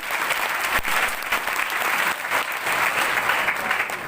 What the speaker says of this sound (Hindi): एक बार जोरदार तालियां सभी अचीवर्स के लिए।